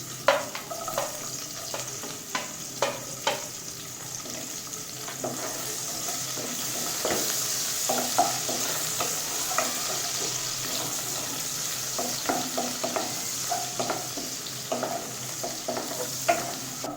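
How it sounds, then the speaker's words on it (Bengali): Chopped onion frying in hot oil over raised heat for a green tomato fish curry, a continuous sizzle broken by repeated spatula scrapes and stirring taps, close and moderately loud with no talking. "এখন আমি এই তেলের মধ্যে পেঁয়াজ কুচি দিয়ে দিচ্ছি।"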